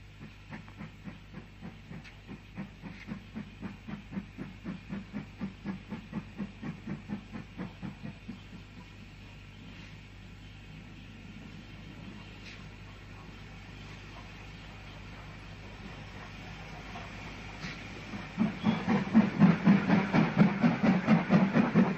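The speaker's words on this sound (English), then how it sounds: "a train approaches from the south on a line known then and now as the Bluebell Railway" A 1950s-60s Southern steam train approaches a station on the Bluebell Railway. Its rhythmic chuffing beats are clear at first, ease into a quieter rolling hiss, then return louder and faster near the end.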